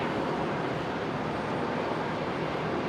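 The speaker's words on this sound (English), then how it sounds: "Qantas 616 touching down in from Melbourne there, the 737-800." A Qantas Boeing 737-800 arriving from Melbourne touches down at Brisbane Airport, heard as a steady, broadband roar of engine and rushing air, loud and unbroken throughout.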